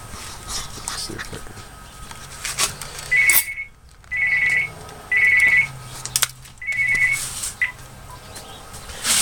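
A Coolmax power supply unit tester sounds a loud, high alarm beep four times in an uneven pattern over a steady background hum.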